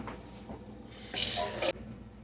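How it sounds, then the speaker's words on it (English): Tap water runs into a kitchen sink for hand washing, a hiss that swells louder for about half a second, then cuts off abruptly. "I'm going to wash my hands."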